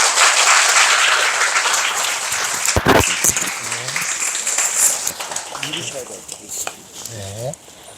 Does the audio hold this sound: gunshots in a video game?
no